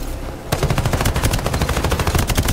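Rapid automatic gunfire from Farlight 84 bursts in after a brief lull and keeps going as a loud, steady stream of close shots.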